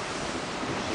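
Waves slap against the hull of a small fishing boat on rough sea, a steady loud wash of water and wind noise filling the whole moment.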